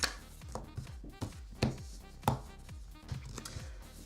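A deck of playing cards is cut and riffled by hand, giving a series of sharp slaps and taps at irregular intervals, close and fairly crisp with soft shuffling between hits.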